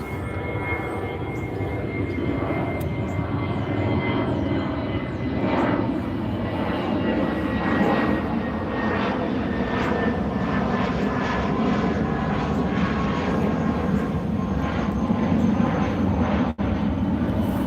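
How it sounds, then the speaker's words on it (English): A propeller or jet airplane passes overhead, a steady loud drone that swells and holds for the whole stretch, close and uninterrupted, with no talking over it. "let the plane pass."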